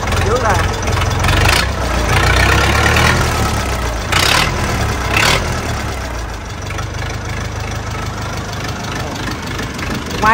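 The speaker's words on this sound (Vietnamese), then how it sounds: "Tiếng máy còn rất là ok nha các bạn." A Massey Ferguson MF 165 tractor engine idles steadily and close by, with a low, continuous rumble and a few sharp bursts of noise over it.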